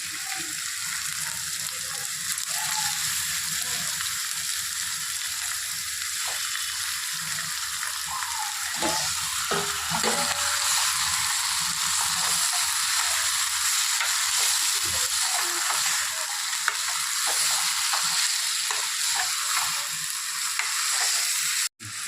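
Washed chicken pieces sizzling steadily in a hot pan for Telugu-style chicken curry, a continuous bright hiss with occasional stirring clinks and scrapes, close and loud throughout.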